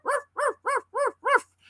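A person imitating a little dog, giving five evenly spaced yappy barks, close and clear, with nothing else around them.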